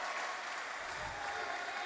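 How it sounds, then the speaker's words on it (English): A basketball crowd at a Sri Lanka Basketball League game between Sri Lanka Army SC and Colombo BC applauds a fake, a dribble move and a basket with dense, even clapping that holds steady throughout. "You can hear the crowd applauding his moves and the basket."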